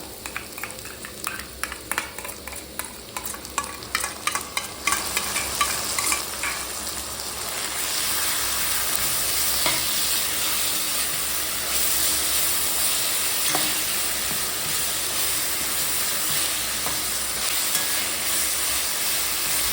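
Ginger garlic paste hitting hot oil for veg dum biryani, sizzling and spattering with a run of metal stirring scrapes early on before settling into a steady, close frying hiss.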